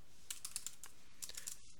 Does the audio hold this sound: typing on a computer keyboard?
yes